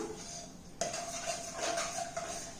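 A spoon stirs squeezed lemon and ground jaggery into panakam, a sweet water drink for Sri Rama Navami, in a steel vessel, with a few light metallic clinks and scrapes at close range.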